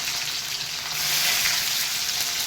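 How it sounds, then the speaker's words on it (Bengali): Boiled freshwater snails fry with onion in hot oil, giving a dense, close, continuous sizzle that rises slightly midway, with no voices. "গেরিটাকে একটু তেলের উপরে পেঁয়াজ দিয়ে একটু ভেজে নিতে হবে"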